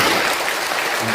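Steady dense applause from a church congregation at a pastor installation ceremony in Korea, continuous and loud throughout the short stretch.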